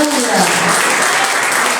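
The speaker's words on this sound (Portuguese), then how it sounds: "Pode aplaudir, a honra é dele" A congregation at a Portuguese-language church service breaks into applause, a brief, loud, dense burst of clapping with a voice heard faintly at the start.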